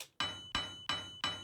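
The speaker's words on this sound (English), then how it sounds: "This is just a metallic Foley sound or something like that." Four sharp metallic clinks strike in an even rhythm, each ringing briefly with a bright, glassy tone before the next hit.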